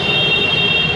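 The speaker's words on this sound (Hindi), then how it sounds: "मेट्रो स्टेशन पहुंच चुके हैं" A metro train runs at a metro station with steady loud rumble and a high sustained whine, no talking over it.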